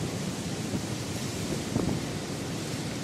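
Strong wind roars steadily, buffeting with a rumbling, noisy rush and a brief gust swelling near the end.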